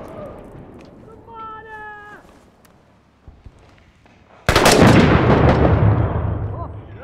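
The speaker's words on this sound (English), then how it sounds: "Go ahead and put a frag in there." A frag grenade tossed into a building in Six Days in Fallujah detonates as a sudden loud blast with a long rumbling tail, after quieter game sounds and a few brief tones.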